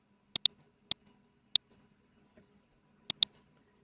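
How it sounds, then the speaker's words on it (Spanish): Computer mouse clicks while navigating invoicing software on a quiet desk: six sharp, close clicks in irregular bursts, including quick double-click pairs, with near silence between them. "Damos un clic en ventas."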